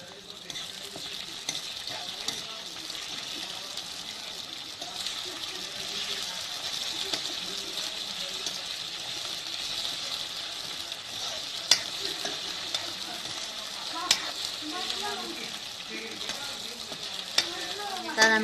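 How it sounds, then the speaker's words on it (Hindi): Chopped onion frying with crushed garlic and ginger for a Haryana village-style bathua saag, a continuous close sizzle with scraping and stirring noises and occasional clinks, while someone talks over it. "प्याज मेरा भुन गया है, मैं लहसुन अदरक जो मैंने कुटा था वो सामान गेरो"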